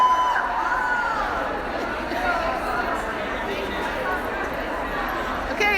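A long line of people entering the Stitches West knitting convention, a continuous crowd babble of many overlapping voices with scattered shouts, steady and moderately close, with no single voice standing out.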